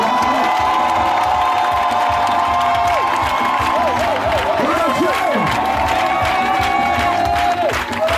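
A church congregation cheers and acclaims during a Sunday service, a loud sustained crowd roar with whoops and raised voices and some clapping, dense and continuous throughout, with voices rising and falling over the din.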